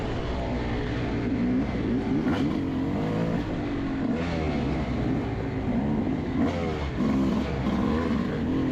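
A Yamaha YZ250X two-stroke dirt bike races the first lap of an off-road cross-country event on a rutted, technical track, its engine droning and revving steadily throughout at close range with no talk.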